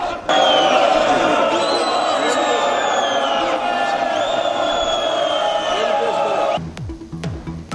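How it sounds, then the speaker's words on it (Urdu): Opposition members in parliament shout slogans during a federal budget speech, a loud, sustained crowd of chanting and yelling voices that stops abruptly near the end and leaves scattered clatter and murmur. "اپوزیشن اراکین نے بجٹ کی کاپیاں پھاڑ ڈالیں اور نعرے لگائے۔"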